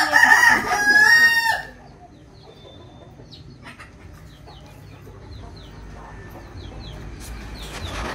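A rooster crows loudly at the start, then scattered native desi hens cluck and chirp softly in the background over the quiet ambience of a poultry shed.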